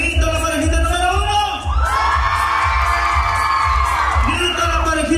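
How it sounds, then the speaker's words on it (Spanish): A crowd at a contest in Houston, Texas shouts, whoops and cheers loudly and continuously, a dense wall of voices swelling in the middle with sustained high yells, rising in response to a call for the first couple. "Grito la parejita número uno."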